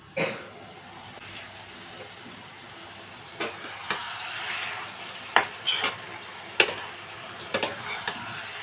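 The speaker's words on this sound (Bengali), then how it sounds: "এখন লাউ আমি ভালোভাবে নাড়িয়ে দিচ্ছি" Bottle gourd that has released plenty of water cooks and is stirred in a pan, giving a constant soft sizzle broken by sharp, irregular clicks and scrapes of the spoon against the pan.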